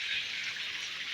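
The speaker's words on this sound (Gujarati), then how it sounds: "જોઈ શકો બહુ વરસાદ આવે છે" Steady heavy rainfall in Jamnagar hisses without a break for a moment, a dense wash of drops with no voices.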